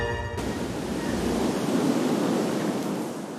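Rough Caribbean surf breaking along the Costa Rican coast makes a steady, loud, broad roar of crashing water, with wind buffeting the microphone throughout.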